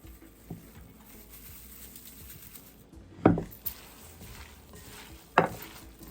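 Seasoning being stirred into a jackfruit mixture for vegan fried fish, a soft scraping, shuffling stir with a few louder knocks and scrapes against the bowl, close and fairly quiet.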